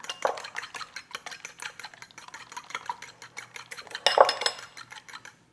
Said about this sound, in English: I'm going to just give these a light scramble. Just a fork's fine.